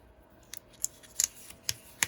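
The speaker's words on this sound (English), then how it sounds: "I'm going to take my scissors and I'm just going to trim off these edges" Scissors snip along the edges of a paper card project, giving about six short, crisp cuts at uneven intervals, close and fairly quiet with no talking.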